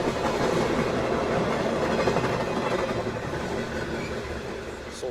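A Z6100 electric suburban multiple-unit train (EAB, 1963-era French commuter stock) passes close by in fog, giving a steady loud rumble with rhythmic clickety-clack of wheels over rail joints throughout.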